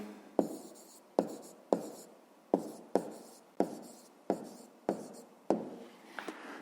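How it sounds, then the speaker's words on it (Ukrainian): A pen writes an answer on paper in short, sharp strokes, roughly nine distinct scratches at an even rhythm, close and quiet, with no talking. "Ну що ж, записуємо відповідь."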